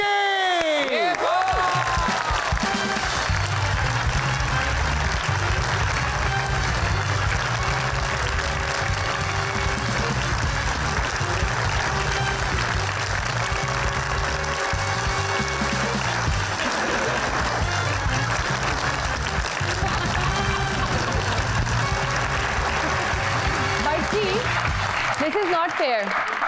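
A studio audience bursts into sustained applause and cheering to welcome actor Adnan Siddiqui onto a talk show stage, dense clapping roaring for over twenty seconds with a music bed and voices mixed in.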